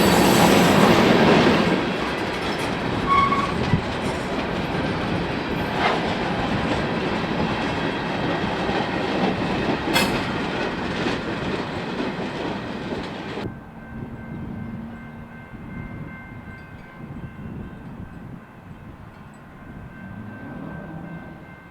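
A Union Pacific GP15 locomotive in old paint leads a train rolling past on the Villa Grove main near Chicago Heights, a loud steady rumble with rail clatter that drops to a fainter, distant hum near the end.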